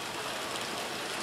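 Heavy rain pours down during a thunderstorm in League City, a dense, steady hiss of rainfall close by that fills the clip without pause, with no talking.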